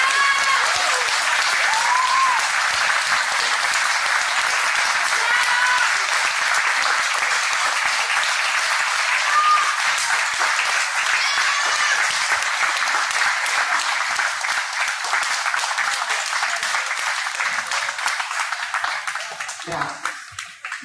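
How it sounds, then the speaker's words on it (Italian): Standing ovation from a concert audience after a live cover song, dense sustained clapping at full strength for most of the stretch, then thinning and fading out toward the end. "fate ancora un grande applauso, non vi fermate"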